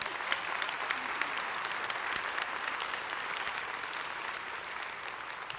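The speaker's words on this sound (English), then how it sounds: "I think Janelle deserves a larger round of applause than that." A convocation audience gives a steady round of applause at a college fall ceremony, dense clapping heard from a distance and holding fairly even throughout before easing slightly at the end.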